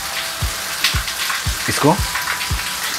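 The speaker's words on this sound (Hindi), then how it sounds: "पानी बहुत अच्छी तरह से खोलने लगा है, प्याज भी ऑलमोस्ट सॉफ्ट हो गई है।" Water boiling steadily in a covered pan with onions softening inside, a soft bubbling hiss with a few louder pops and sputters, heard near; a voice speaks briefly.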